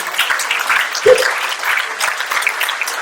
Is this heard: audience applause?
yes